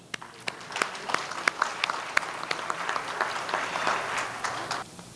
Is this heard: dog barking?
no